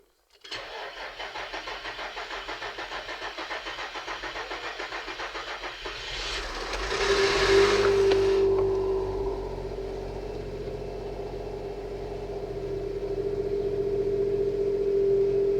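An Infiniti FX35 engine cranks with a steady, rhythmic starter chug for about six seconds, then catches and flares up loudly before settling into a smooth, close idle.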